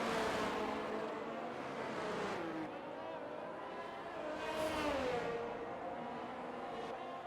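A race car in the F1 22 video game roars past with its DRS wing open, engine pitch sweeping up and down under steady continuous commentary.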